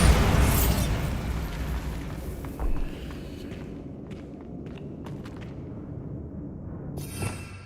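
A Bombarda spell blast in the video game Hogwarts Legacy: a loud, close explosive boom at the start that rumbles and decays, followed by a few smaller thumps and crackling bursts, with a sharper pop near the end.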